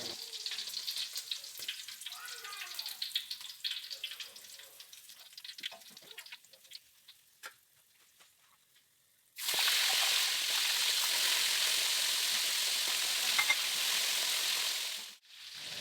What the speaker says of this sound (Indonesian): Ini bisa kita angkat dan kita goreng ikan sisanya.